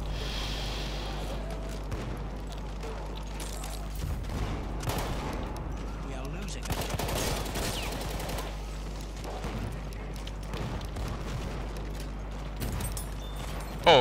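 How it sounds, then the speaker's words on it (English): Battlefield 1 combat at Verdun Heights with scattered gunfire and a shotgun blast among distant shots and rumble, sharp cracks spread irregularly across the stretch, with a louder burst at the very end. "It's a shotgun."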